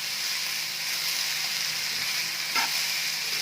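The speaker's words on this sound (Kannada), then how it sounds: "ಇದೇನು ಜಾಸ್ತಿ ಫ್ರೈ ಮಾಡೋದು ಬೇಡ, ಸ್ವಲ್ಪ ಮಾಡಿದರೆ ಸಾಕು" Lettuce leaves, vegetables and legumes fry briefly in a pan with a dense, even sizzle and hiss and a single stirring scrape partway through.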